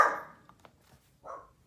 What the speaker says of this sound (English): She was barking, little devil.